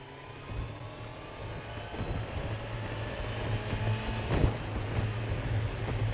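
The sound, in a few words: 100 horsepower boat engine at high speed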